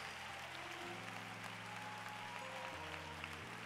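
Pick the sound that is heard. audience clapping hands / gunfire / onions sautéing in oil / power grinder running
audience clapping hands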